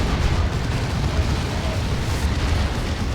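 A Phobos vehicle is destroyed in the Dawn of War 2 video game, giving a sustained rumbling explosive roar with dense low-end crackle that holds steady and loud for several seconds, with no speech over it.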